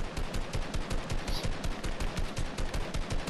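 Automatic assault rifle fire in an arena battle-royale video game, sustained rapid bursts of loud, dense shots repeating steadily throughout with no pauses.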